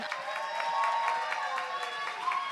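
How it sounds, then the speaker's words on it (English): A crowd at an opening address applauds a guest, continuous clapping blended with cheering voices and shouts at a moderate, even level. "Can we also just give a round of applause for Parvesh?"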